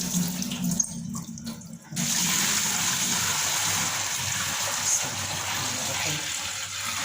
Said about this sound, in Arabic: هحاول كده بقى ادلق الميه دي